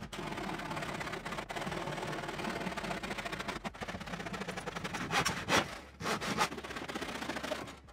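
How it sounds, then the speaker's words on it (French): A hand saw cuts through a small wooden board for a drawer back, with steady rasping strokes that swell louder near the end before the cut finishes. "J'en ai marre de scie à la main."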